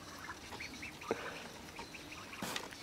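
Faint bird calls, short honking and quacking notes scattered over a quiet outdoor background, with a couple of brief louder bursts.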